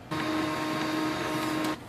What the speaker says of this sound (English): Switch on the printer, so press the power button.